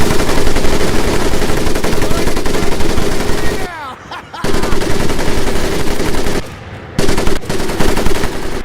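A heavy machine gun in the WWII shooter Medal of Honor Pacific Assault pounds out long, loud, sustained bursts of rapid fire, broken by two short pauses with faint echoing tails before firing resumes.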